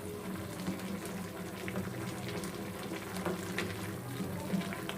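A covered pot of sinigang na baboy, pork in sour broth, boiling, with a steady close bubbling and simmering hiss that runs unbroken and even throughout, no voices.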